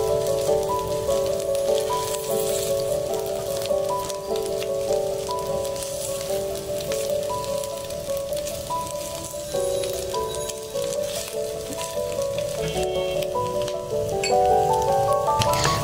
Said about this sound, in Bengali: আস্তে আস্তে নেড়ে নেড়ে মাংসটি ভেজে নিতে হবে